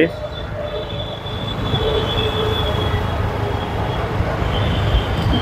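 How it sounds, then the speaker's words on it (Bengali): A metro rail train at Karwan Bazar station in Dhaka rumbles steadily with high, sustained wheel squeal over the rails, loud and close, with faint voices in the background. "এ হচ্ছে কারওয়ান বাজার মেট্রো রেল স্টেশন"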